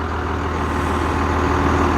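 The diesel engine of a 1997 Fleetwood Discovery RS 37-foot Class A motorhome with an Allison six-speed transmission idles with a steady, loud, low rumble throughout.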